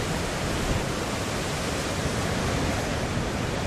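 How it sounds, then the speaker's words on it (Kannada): Heavy Arabian Sea waves crashing on the Karnataka coast during monsoon rain, a dense, continuous roar of surf filling the whole clip, loud and steady with no voices. "ಭಾರೀ ಗಾತ್ರದ ಅಲೆಗಳು ದಡಕ್ಕೆ ಅಪ್ಪಳಿಸ್ತಿವೆ."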